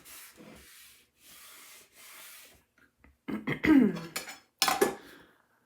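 Wax being buffed on a Chalk Couture double-sided surface, soft rubbing strokes in short bursts followed by louder, scratchier rubbing passes close up.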